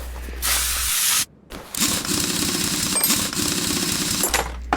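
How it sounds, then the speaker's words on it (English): A spray gun hisses in two loud bursts while car rims are painted in Car Mechanic Simulator 2021, with a short silent gap between them and a low hum at the start and end. "There's two there that I have to spray."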